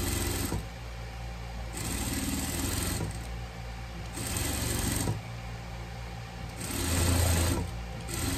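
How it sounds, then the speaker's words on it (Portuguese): A sewing machine stitches trim onto a fabric pet cap in short, close bursts of rapid whirring, stopping and restarting several times with faint fabric handling between runs. "Passar a costura aqui no nosso filete."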